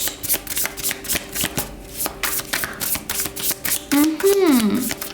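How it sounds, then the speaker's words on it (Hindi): A deck of tarot cards is shuffled for a reading: quick riffling bursts repeat in fast succession, close and clear, with a short vocal sound near the end. "तो चलिए शफल कर लेते हैं"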